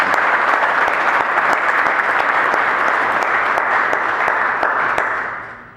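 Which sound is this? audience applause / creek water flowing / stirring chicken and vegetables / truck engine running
audience applause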